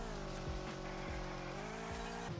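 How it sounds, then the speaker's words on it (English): A Yesco car in the video game Drive World circles slowly with a steady engine drone and repeated tire-squeal chirps, heard close and alone. "So if I go in a circle, the car drives slower than it did before."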